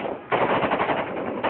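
Sustained, loud bursts of rapid automatic gunfire from war footage in Iraq, crackling almost without pause after a brief quieter opening.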